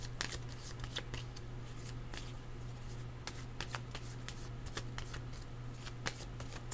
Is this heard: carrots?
no